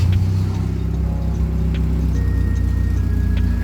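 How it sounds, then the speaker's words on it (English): A Toyota Corolla engine idles steadily on its own after a cold start, a close, even low rumble with faint higher whines and no one talking. "It was completely cold. I didn't have to give it gas. I didn't have to use the choke. And it's idling."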